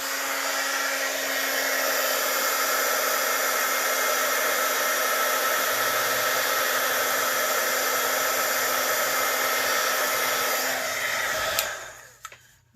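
A heat gun blows steadily and loudly while melting embossing powder for heat embossing, a continuous close whooshing roar that holds for about eleven seconds before switching off and spinning down.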